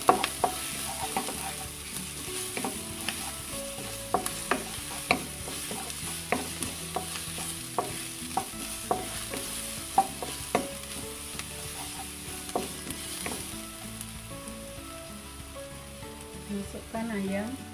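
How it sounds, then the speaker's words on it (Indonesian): Garlic sizzling in a hot pan with repeated scraping and clinking of a utensil stirring, steady frying underneath. "Masukkan bawang putih, tumis sampai harum."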